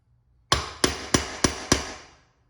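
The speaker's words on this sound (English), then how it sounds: "Just don't really like hammer it. Just nice light taps." Five light, evenly spaced hammer taps ring out close and alone during a Honda TRX400ex ATV bottom end rebuild, each sharp strike fading quickly into a brief metallic decay.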